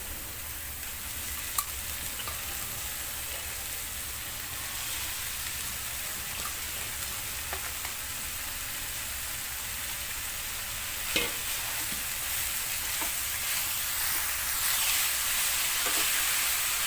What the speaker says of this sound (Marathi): आपण आता भाजी टाकून घेऊया